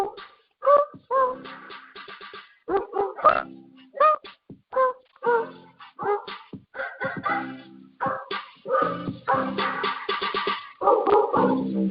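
Dogs bark and yowl in rhythmic, pitched bursts that follow a song-like pattern, close and clear with short gaps between phrases.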